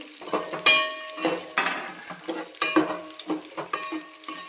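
Green chillies frying in hot oil with onions and masala for a meal maker pulao, a steady sizzle broken by spoon clinks and stirring scrapes against a rice cooker pot, with no voices.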